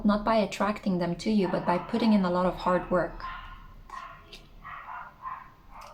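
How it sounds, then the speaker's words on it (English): A dog barks in the background, several brief faint yaps after a stretch of close, clear talking, heard mostly once the voice pauses. "I'm sorry about that dog that you hear on the background"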